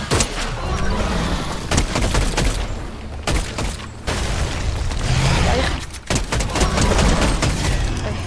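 Bombardment explosions in the video game Fortnite roll on as a dense, continuous barrage of loud booms and crackling bursts, with brief dips in the din between volleys.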